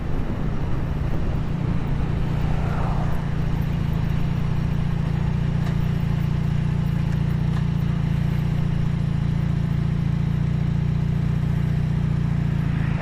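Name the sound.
1979 Honda CM400T two-cylinder motorcycle engine running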